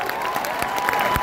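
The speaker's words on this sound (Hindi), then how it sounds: "तो एक बार मैम के लिए जोरदार तालियां हो जाए गाइस" An audience applauds at an event honoring a guest speaker, a continuous wash of clapping from a crowd that stays fairly loud and even for the whole short stretch.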